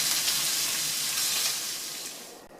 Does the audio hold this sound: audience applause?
no